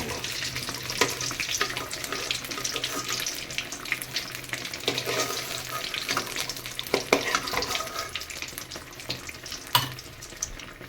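Greens cooking in a pan of oil reduced after frying eggplant, a steady dense sizzle and hiss with stirring scrapes and an occasional sharp clatter, close and fairly loud throughout.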